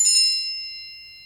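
A bright Apple iPhone chime alert tone rings once with a clear metallic strike, then fades in a long shimmering decay, loud and alone.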